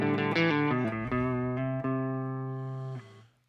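A clean electric guitar tone from a Fractal Audio AX8 rings out alone as a few picked notes and chords, the last one sustaining and slowly decaying over a few seconds.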